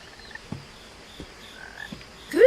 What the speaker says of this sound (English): Still hear that frog.